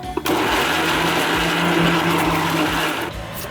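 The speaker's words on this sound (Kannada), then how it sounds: "ಇದಿಷ್ಟನ್ನು ಹಾಕೊಂಡು ನಾನು ರುಬ್ಕೊಳ್ತೀನಿ." A mixer grinder roars loudly and steadily at close range while grinding masala for mutton gravy, starting abruptly and cutting out near the end, with no speech over it.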